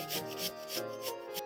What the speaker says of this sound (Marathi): अशा प्रकारे आपल्याला एवढा असा बारीक कोबी किसून घ्यायचा आहे